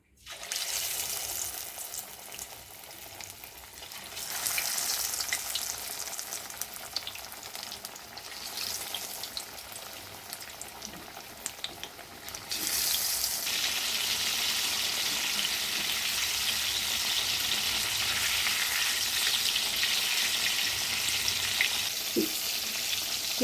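Fish coated in masala sizzles and crackles steadily in hot oil in a home kitchen, a dense frying hiss that swells louder partway through and holds on without talk.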